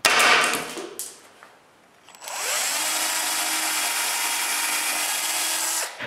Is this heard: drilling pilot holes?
yes